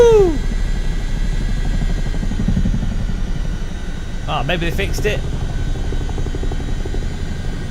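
Helicopter rotor and engine in the flight simulator game MSFS 2024, a steady loud droning whine that continues throughout, with someone talking over it.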